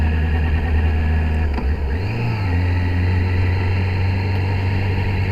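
Yamaha R6 motorcycle engine burbling at low RPM, a steady deep idle-like drone with a brief dip and rise in revs partway through, close and continuous with no talk.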